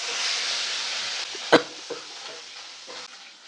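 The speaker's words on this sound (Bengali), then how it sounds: "এবার আমি তেলের মধ্যে এক পিস করে দুটো মাছই দিয়ে দেব।" Two pieces of rohu fish slipped into hot oil, giving a steady close sizzle with a sharp crackling burst as a piece hits the pan, then fading frying hiss.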